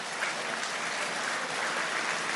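Sustained applause from a large crowd at the Eclipse Awards in West Palm Beach, dense and even clapping throughout without a break.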